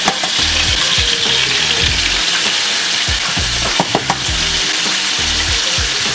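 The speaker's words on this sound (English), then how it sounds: "We need some of these juices in this pan so we can fry our eggs and beef fat." Eggs frying in beef fat in a pan alongside a beef patty, a loud close sizzle with bursts of crackle and occasional scraping stirs, no voices.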